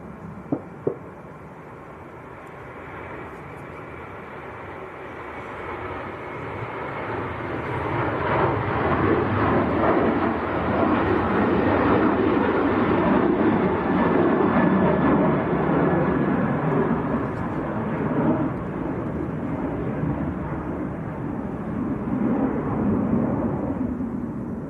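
A Ryanair airliner on its takeoff roll at Manchester Airport, bound for Funchal, builds from a distant whine into a loud, broad jet roar that holds steady for many seconds before easing slightly.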